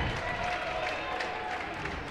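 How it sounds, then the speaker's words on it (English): A crowd at a basketball game applauds and cheers steadily after a free throw, a dense, even wash of clapping and voices heard from a distance. "A lot of cheering for that one."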